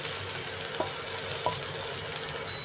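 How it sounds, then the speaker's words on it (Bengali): Boiled bottle gourd leaves stir-fry in a little oil in a pan, giving a soft, steady sizzle with a few light scraping stirs. "সামান্য তেল দিয়ে আমরা এখন এটাকে ভাজা ভাজা করে নেব"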